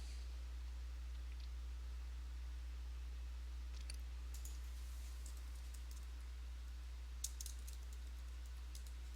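Mouse clicks in a quiet room make a few faint, scattered ticks, with a short cluster near the end, over a steady low electrical hum.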